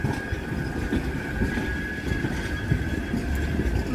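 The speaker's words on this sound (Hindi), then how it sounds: "टोन से आया तो ये ट्राम जा रही है।" A tram passes through the town streets of Manchester, England, with a steady, loud low rumble and rolling rail noise throughout, plus a faint high whine running underneath.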